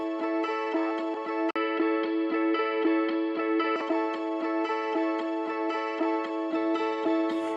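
Electric guitar blended with a pitch shifter set twelve semitones up gives a sustained, shimmering, slightly granular chordal tone that rings steadily and close, with rhythmic strums and one brief cut near the start.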